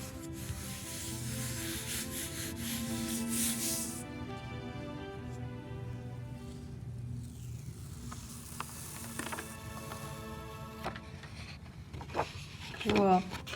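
Hand rubbing of paper over an inked reduction print block, producing a steady dry scraping and rubbing texture that continues throughout, with soft bumps and taps near the end.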